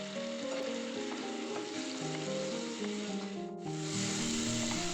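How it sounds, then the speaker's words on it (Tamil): Mushrooms roast in a pan with salt and pepper, a steady close sizzle and frying hiss running throughout, with faint stirring scrapes and no talk. "இதில் வந்துட்டு நான் சால்ட் அண்ட் பெப்பர் வந்து கொஞ்சமாக ஆட் பண்ணிவிட்டு நான் இதை ரோஸ்ட் பண்ணி எடுத்துக்க போகிறேன்."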